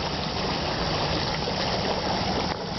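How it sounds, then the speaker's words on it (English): Stream of water running hard after a storm, a steady, close, full rushing flow that continues without pause, with no voices over it. "And here's another stream."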